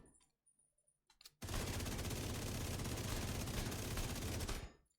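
Sustained automatic gunfire in The Division 2, a steady rapid stream of body shots roaring loud and continuous for several seconds after a brief quiet start, then cutting off abruptly.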